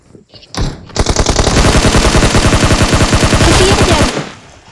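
Rapid automatic gunfire from a shooting video game rattles out as one loud, continuous burst lasting about three seconds, with dense regular shots before it cuts off.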